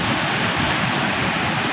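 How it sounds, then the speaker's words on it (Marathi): The Sahastrakund waterfall near Nanded rushes as a dense, steady roar of falling water, close and continuous, with no voices. "हा सहस्त्रकुंड धबधबा"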